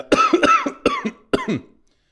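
A person coughs several times in quick, harsh bursts close to the microphone, then falls silent.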